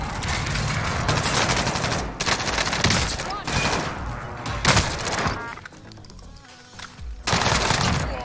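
Bursts of rapid automatic fire from CWAK and CW MP5 guns in Call of Duty Warzone, loud close volleys broken by short pauses, with impact thuds and game noise between them.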